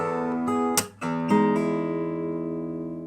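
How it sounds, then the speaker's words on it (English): Acoustic guitar notes sounded with a middle-finger hammer-on, a few plucked attacks ringing on with sustained harmonic tones, close and alone in a quiet room. "what I did here with the middle finger is basically the hammer-on techniques"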